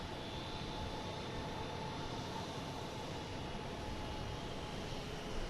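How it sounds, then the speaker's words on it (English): An American Airlines jet takes off at Boston Logan airport, giving a steady, distant broadband engine roar that holds evenly throughout with no voices. "We have an American taking off."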